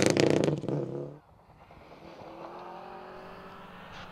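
A Subaru Impreza rally car in the Icelandic Rally Championship at Skagafjordur roars loudly at close range, its engine note surging before dropping to a steady, more distant drone.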